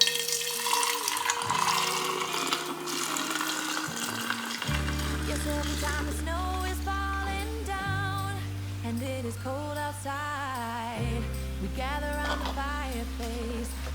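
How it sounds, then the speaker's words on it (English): Homemade peppermint mocha creamer poured steadily from a mix into a jar, a continuous liquid trickle and splash that runs alone throughout, with music playing in the background. "now we're gonna go ahead and take our mix and pour it into our jar"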